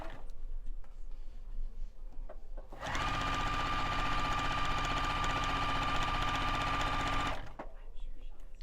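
A sewing machine runs steadily for about four and a half seconds, stitching the seam of a Santa hat pillow, with a steady whirring hum that starts and stops cleanly against quiet room sound.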